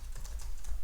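Typing a git log command on a computer keyboard, a short run of quick, close key clicks lasting under a second with no talking.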